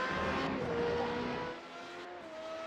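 A Formula 3.5 race car runs through the final chicane at Twin Ring Motegi, its engine a loud, high, steady whine that dips briefly as it passes, with no talk.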